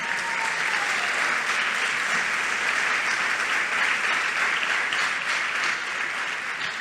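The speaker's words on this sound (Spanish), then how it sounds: "denles aplauso al Señor" Sustained applause from a church congregation, a steady dense wash of many hands clapping at close range, filling the whole stretch evenly without pause.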